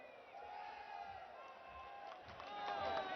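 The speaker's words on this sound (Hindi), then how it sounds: "जोरदार तालियां हमारे माननीय प्रधानमंत्री जी के लिए।" A large crowd at a public event cheers and shouts in welcome for Prime Minister Modi, a faint, distant wash of voices and whistles that builds toward the end.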